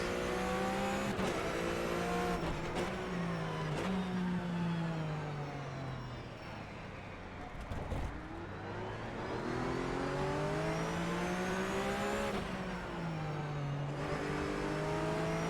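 A Porsche GT3 Cup race car in the rFactor 2 racing game revs hard through rising and falling gear sweeps, loud and continuous, with a brief lift-off dip midway and no speech.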